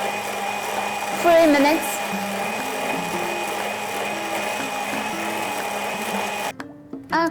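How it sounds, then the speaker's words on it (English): KitchenAid stand mixer beating cupcake frosting, a steady motor whir with rhythmic mechanical churning, close, with brief talk and a short stop near the end. "my small helper KitchenAid will beat this all together"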